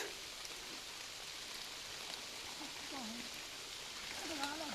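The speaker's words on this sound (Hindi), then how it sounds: "तो चलते हैं फिर दोस्तों, बारिश लग रही है अभी बहुत तेज़ वाली।" Steady, heavy rain hisses as a continuous wash of noise, with a few faint chirps or calls rising above it.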